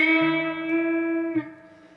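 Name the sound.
electric guitar string bend with vibrato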